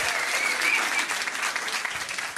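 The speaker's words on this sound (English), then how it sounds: "give them a round of applause for having a go" A pub quiz audience at The Granta gives a loud, dense burst of applause for contestants, the clapping continuous and close throughout.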